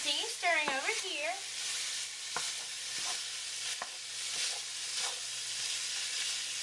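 Lasagna meat sizzles and fries in a pan while a spoon stirs it, giving a soft continuous hiss with occasional scraping knocks, and a voice briefly sounds near the start.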